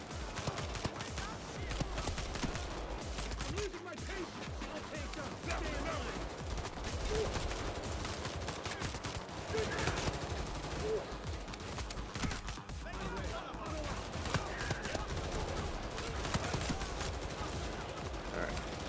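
Assault rifle fire in a video game shooter crackles almost continuously in rapid bursts, loud and dense throughout with barely a pause between volleys.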